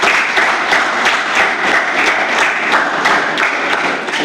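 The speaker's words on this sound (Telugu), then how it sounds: "మీకు మీరు ఒకసారి చప్పట్లు కొట్టుకోండి" Audience at a government school event distributing free pens to tenth-class students claps loudly and steadily, dense applause with a few sharper claps standing out throughout.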